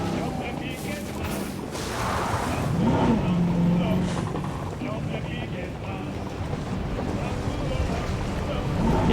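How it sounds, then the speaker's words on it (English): A loud car in a video game gives a constant broad, rumbling roar that holds steady throughout, with people talking over it. "you're driving a loud car"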